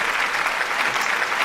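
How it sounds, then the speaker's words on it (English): An audience applauding with steady, dense clapping throughout a short burst, evenly loud and moderately close, with no voices standing out. "Yes, you can applaud for"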